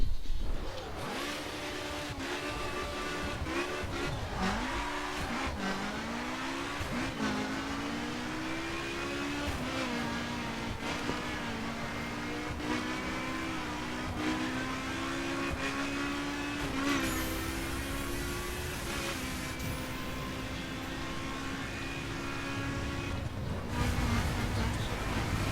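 A BMW M4 engine in The Crew revs steadily with rising and falling pitch, loud and continuous throughout, with a brief quieter dip near the end.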